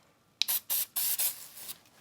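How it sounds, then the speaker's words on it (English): Cleaner sprayed from a trigger bottle onto a shop towel during a motorcycle cam cover install, four short sharp hissing bursts in quick succession, close and loud, with no voices. "just spray it directly on the shop towel so that, you know, I don't have extra residue"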